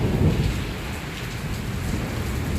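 Thunder rumbles low and continuous beneath heavy, steady rainfall during a hail-laden storm in Islamabad, a loud, dense wash with a deep roll early on and no talking.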